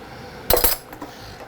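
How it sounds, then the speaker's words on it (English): A metal spoon is set back down onto a plate or counter beside a plated king salmon and farro dish, giving a short bright clatter of two or three quick clinks, close and fairly loud, with no talking. "Put the spoon back."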